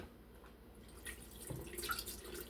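Water trickles and pours for brewing a strong coffee, quiet and close, with splashy pouring that swells toward the end.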